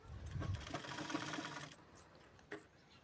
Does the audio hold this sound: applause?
no